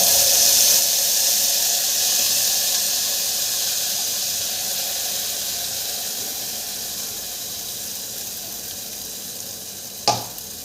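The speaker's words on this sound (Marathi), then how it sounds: "आता हा मसाला फ्राय करून देऊ" Turmeric and spice masala frying in hot oil gives a steady loud sizzle and hiss that slowly fades, ending with a short clatter near the end.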